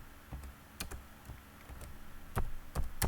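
Scattered keystrokes on a computer keyboard while C++ code is typed, with sharp isolated clicks and brief bursts, louder near the end, close and alone.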